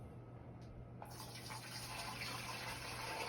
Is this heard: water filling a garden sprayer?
yes